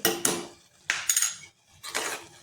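Bitter gourd vegetable chutney, seasoned with paneer masala and shev bhaji powder and made without oil, being stirred in a pan: three separate bursts of scraping and clinking, close and moderately loud, with short quiet gaps between them.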